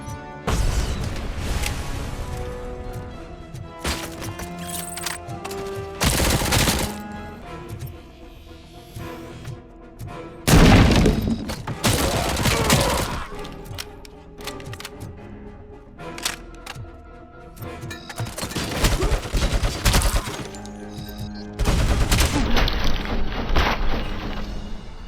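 Combat in the video game RoboCop: Rogue City, with loud repeated gunfire bursts, booming impacts and crunching debris from destructible pillars breaking apart, dense and chaotic throughout with brief lulls between volleys.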